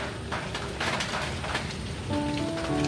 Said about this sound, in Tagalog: Biyaya, blessing daw, Tatay Ray, pag umuulan